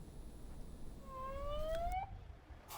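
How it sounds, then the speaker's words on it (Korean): A distant fire truck siren rises and wails once as it enters a traditional market in Busan, faint beneath low background rumble and street noise. "사이렌을 울리며 소방차가 전통시장 안으로 들어옵니다"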